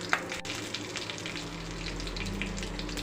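Chickpeas fry in a pan with a spoonful of ginger garlic paste, giving a steady close sizzle and hiss with a brief clink near the start, and no talking.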